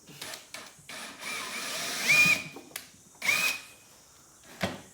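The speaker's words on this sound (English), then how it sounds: "Sam's drilling some pilot holes for the hole saw" Two short bursts of a drill spinning up, close by, drilling pilot holes for a hole saw, separated by scraping and handling noises.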